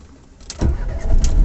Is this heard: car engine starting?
yes